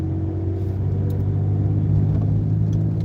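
A car passes in city traffic at a pedestrian crossing, a steady low engine rumble and tyre roar holding close and even throughout, with no talk.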